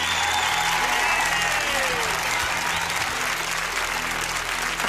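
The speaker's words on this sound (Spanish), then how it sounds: "¡Un aplauso para Jonathan!" A television game show studio audience applauds steadily, a dense, sustained wash of clapping with faint voices beneath it.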